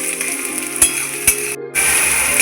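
Ginger and garlic sizzle steadily in hot oil in a pan with chopped onion, with a few sharp stirring knocks and a brief pause before the frying hiss resumes, close and alone.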